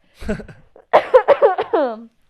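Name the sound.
cough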